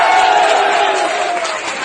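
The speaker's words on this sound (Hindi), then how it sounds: "इनकी धमकी सुनकर कट्टरपंथी ताली बजाने लगे" Loud crowd at a political rally roaring and cheering continuously, a dense wash of massed voices with clapping blended in, steady throughout and slowly easing toward the end.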